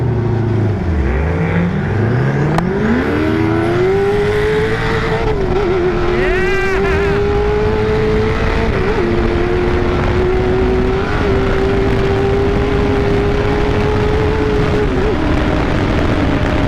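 A Tatum sandrail built on a VW-based chassis with a Subaru engine accelerates hard at a sand drag event, its loud rising engine note climbing steadily and then holding a sustained high-revving drone up close throughout.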